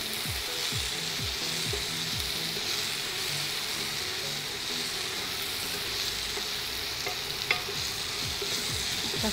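Chopped onion frying in a pan for besan capsicum, a steady close sizzle with occasional stirring scrapes and clicks throughout, no talking.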